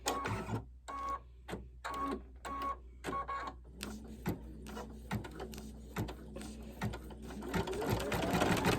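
A sewing machine runs a zigzag stitch around the appliqué on an Easter bunny table runner: a close, loud, rapid mechanical chatter in rhythmic bursts that grows into a continuous run near the end.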